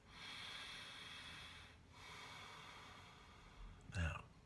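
A person draws a long, slow, deep breath up close, with airy hissing that swells, pauses and is then followed by a short, heavier exhale.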